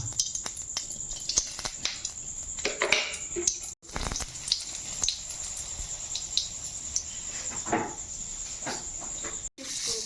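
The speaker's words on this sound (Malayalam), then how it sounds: "ഞാൻ ഇതിലേക്ക് രണ്ട് ടേബിൾ സ്പൂൺ വെളിച്ചെണ്ണ ഒഴിച്ച് കൊടുക്കണേണ്ട" Seeds fry in coconut oil in a pan with a steady close sizzle and scattered crackling pops running throughout.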